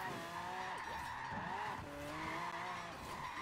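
Car drifting in the Forza Horizon 4 racing game, a continuous engine roar with rising and falling revs and sustained tire squeal and skidding, loud and close throughout with no talk.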